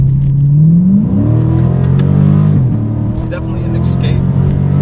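A 2018 Dodge Challenger 392 Scat Pack with an automatic transmission accelerates. The steady, loud engine note rises in pitch while the car drives and a voice talks over it.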